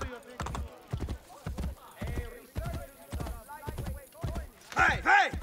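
Steady, rhythmic clip-clop of horse hooves trotting close by in Assassin's Creed Brotherhood, with a voice speaking over the hoofbeats.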